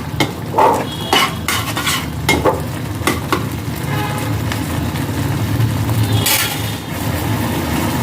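Egg tarka being stirred in a frying pan, a steady sizzle of cooking with repeated scraping and clinking strokes of a spatula against the metal, fairly close and loud.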